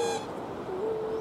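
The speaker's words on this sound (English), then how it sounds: "Rare black cockatoos." An endangered glossy black cockatoo calls near the coast at Ulladulla, with Pigeon House Mountain nearby: a thin, drawn-out wavering cry over soft outdoor background noise.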